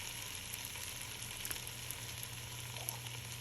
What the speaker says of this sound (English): So first, we're going to be slightly browning the potatoes and the